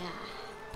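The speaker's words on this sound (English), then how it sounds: "How do we calm down bees?" Enraged bees buzz in The Sims 4 as a dense, continuous drone, fairly close, lasting under a second.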